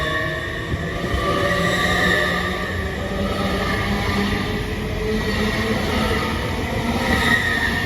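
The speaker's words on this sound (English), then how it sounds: "And also going out is the 1528 Great Western Railway service to London Paddington from Western Supermare" A Great Western Railway Class 800 unit on a London Paddington service departs Didcot Parkway, its steady rumble and hum with tonal whine passing close and loud throughout, no talk over it.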